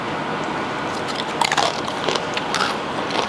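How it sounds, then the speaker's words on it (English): Crisp, close crunches as a blue corn tortilla chip loaded with buffalo chicken dip is bitten and chewed, with a few sharp bursts of crackle over a soft room hush. "We do have some leftover blue corn tortilla chips though, so let's give this a dip a try."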